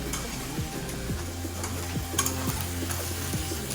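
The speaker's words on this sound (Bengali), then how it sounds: "এখন আমি ভালোভাবে মশলার সাথে কষিয়ে নিব সিম আলু।" Flat beans and potatoes fry with spices in a pan, a close, dense sizzle broken by regular spatula scrapes and taps against the pan, with no voices.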